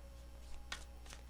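A few soft, brief riffles of tarot cards being shuffled, quiet and close, with a faint steady hum underneath.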